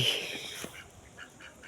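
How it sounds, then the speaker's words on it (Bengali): Ducks quacking along a canal in rural Bengal countryside, several short nasal calls near the start, then softer repeated quacks spaced through the rest against light outdoor background. "কত সুন্দর হাঁস"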